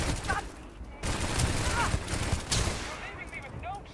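Gunfire in the space role-playing game Starfield crackles in several bursts over a few seconds, with a voice talking over parts of the shooting.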